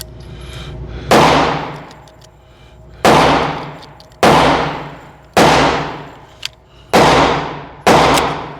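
Six loud gunshots from an S&W M&P Shield EZ 9mm pistol at a shooting range, each a sharp crack with a decaying echo, fired at slow irregular intervals about a second or more apart.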